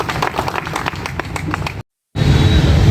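Brisk applause from an audience welcoming the chief guest at a local gathering in Damoh, dense overlapping claps breaking off abruptly into a short silence before resuming just as loud.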